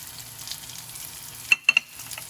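Bacon and garlic powder frying in a pan, a low steady sizzle with a few sharp clinks of a utensil partway through.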